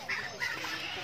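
A turkey in an animal enclosure gives a short burst of clucking, gobbling calls at close range, two quick rising bursts in a brief moment.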